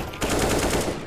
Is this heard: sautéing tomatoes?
no